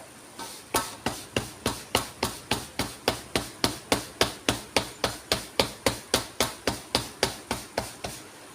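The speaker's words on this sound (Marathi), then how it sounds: "वरच्या बाजूला दाबत दाबत दाबत थोडीशी भाकरी अशी मोठी करून घेते" Bhakri flatbread dough being patted and pressed flat by hand, a steady run of about twenty-five sharp, evenly spaced slaps at roughly three per second, close and distinct with no talking.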